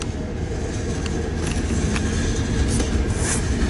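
A Missouri Pacific eastbound manifest freight train rolls past while slowing, giving a steady, close rumble with faint metallic clicks and wheel noise.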